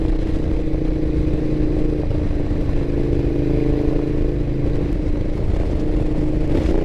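Ducati Diavel motorcycle engine droning steadily while riding at low speed on a backroad, a continuous close rumble with wind noise and no sharp revs.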